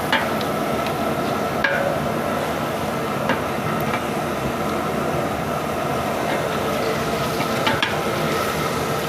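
Ginger and garlic, about 300 g and 150 g, sizzle steadily as they are stirred into a frying pot of softened green chillies for a home dum chicken biryani, with a constant close crackle and occasional scraping clinks.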